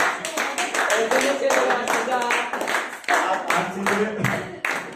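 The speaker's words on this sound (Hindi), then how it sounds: "जोरदार तालियां।" Audience clapping at a personality development seminar, a sustained burst of hand claps in an indoor hall with voices talking and calling out over it throughout.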